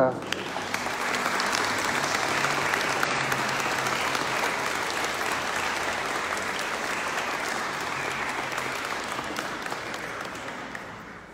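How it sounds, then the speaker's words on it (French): Sustained applause from a congregation in the choir area of a Notre-Dame de Lourdes parish church in Bastia, dense and even clapping that holds for several seconds before slowly tapering off. "Je pense que vous pouvez déjà les applaudir."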